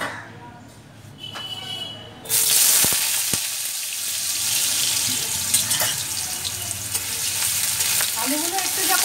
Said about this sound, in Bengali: প্রথমে তেলটাকে গরম করে নিয়েছি, এবারে আমি আলুগুলো ছেড়ে দিচ্ছি।